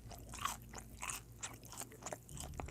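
Crunchy chewing and biting from an older 2018-era mukbang with a lower-quality recording setup: repeated close crunches in an uneven rhythm, fairly faint, with no talking.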